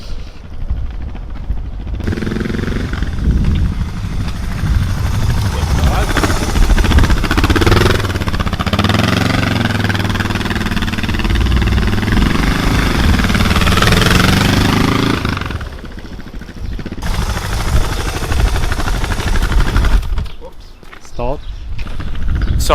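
A newly bought motorcycle idles and revs as it rides a few small laps around a parking lot, its engine loud and continuous for over ten seconds before dropping away, with talking before and after.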